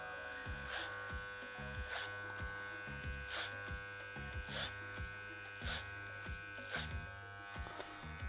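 An electric hair clipper cutting a zero fade hums with a steady close buzz, and louder swells recur roughly every second as the blade passes through the hair.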